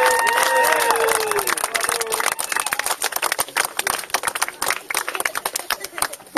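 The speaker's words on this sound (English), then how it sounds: "I think they deserve a huge round of applause." Members at a sports club gathering applaud organisers for earning a club accreditation. Full, dense clapping from a sizeable crowd continues throughout, with a few brief high whistles or chirps at the start.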